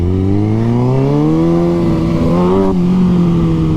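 A stunt motorcycle's engine revs hard and climbs steadily in pitch during a ride, loud and close with a continuous rising drone and no talk over it.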